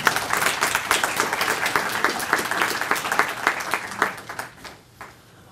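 Audience applause welcoming a dean to the microphone at a university lecture, steady moderate clapping that tapers off into a few last scattered claps and then quiets.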